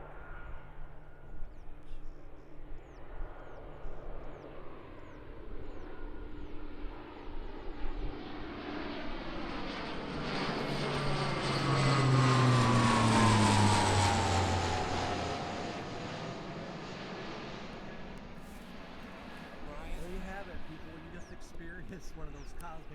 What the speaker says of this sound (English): that modern day transport plane that drops paratroopers in the battle to this day had invasion stripes on it